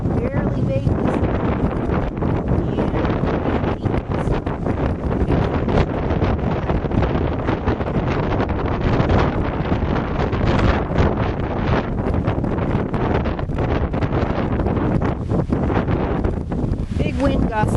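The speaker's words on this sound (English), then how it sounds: "Big wind gust there, sorry." Strong wind gusts buffet the microphone in a backyard pumpkin patch, a loud, continuous low roar and rumble that swamps everything for the whole stretch.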